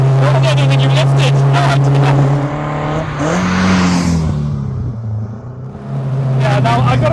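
A cammed, carbureted Peugeot 205 GTi stage rally car engine revs hard and loud in the cabin, its steady drone rising and falling through gear changes, with voices talking over parts of it.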